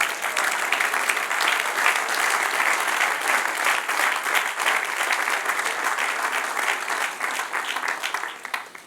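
A congregation at a church Bible class on New Testament history bursts into sustained applause, thick and even for about nine seconds before tapering off at the end, with little talking over it.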